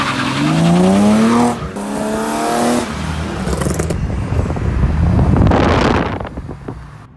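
Cars launching at the start of a street race, engines revving loudly with rising pitch, then tires squealing and roaring wind-buffeted acceleration as they pull away, loud and close throughout.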